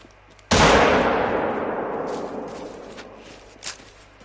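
A single loud gunshot in a hunting video game, with a sharp crack and a long decaying echo. A fainter crack follows near the end.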